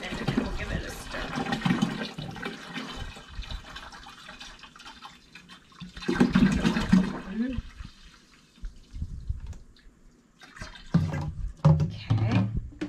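Apple juice is poured for homemade wine in several splashing, gurgling bursts, with quieter gaps between them and some background voices.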